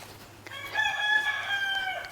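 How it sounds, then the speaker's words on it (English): A rooster on a farmstead crows in one long drawn-out call, clear and moderately near, with no voices. "Shut up, Mr. Rooster."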